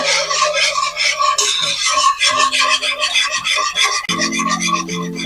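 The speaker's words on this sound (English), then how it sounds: "And then we're going to whisk this." Lemon juice and pectin are whisked together for dandelion lemon balm jelly, giving a continuous, brisk scraping and rubbing rhythm close by, with faint steady hum underneath.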